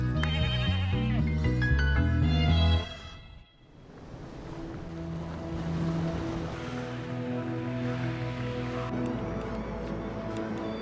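A sheep bleats in a sustained wavering call, then fades into a broad wash of outdoor noise like surf or wind, with faint bleating tones continuing in the background.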